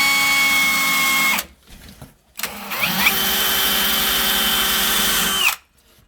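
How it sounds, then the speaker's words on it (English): A power drill bores shallow holes into a slab door for knob installation, running steadily for over a second, pausing briefly, then whirring again for several seconds before stopping. "We're going to drill about 3/16 of an inch deep on all 4 locations."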